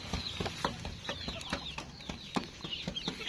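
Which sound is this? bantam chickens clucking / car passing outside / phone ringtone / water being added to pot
bantam chickens clucking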